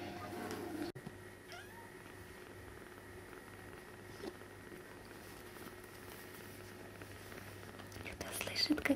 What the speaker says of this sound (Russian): Кто слышит, как она мурчит?